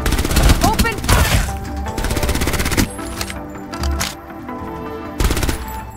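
Rapid machine gun fire in the shooter game Farlight 84, loud repeated bursts of automatic shots with brief pauses between volleys, fairly close and dominant throughout.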